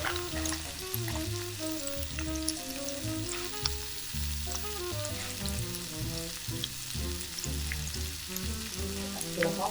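Steak seasoned with salt and pepper sears in a frying pan with a steady, loud sizzle that runs unbroken throughout, with no one talking.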